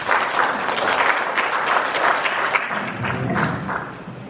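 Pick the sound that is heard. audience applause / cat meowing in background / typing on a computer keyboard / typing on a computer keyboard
audience applause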